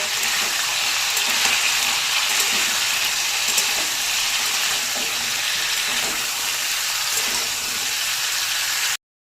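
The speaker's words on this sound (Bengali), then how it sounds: "ফুলকপিগুলো লাল করে ভেজে নেব" Cauliflower florets fry in hot oil with salt, giving a loud, continuous dense sizzle and crackle close by, steady throughout before cutting off abruptly at the end.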